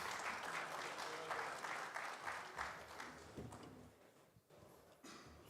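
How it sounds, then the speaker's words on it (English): An audience at a conference plenary session breaks into sustained, dense applause, steady clapping that thins out briefly near the end before a final swell. "Let's please give her another round of applause."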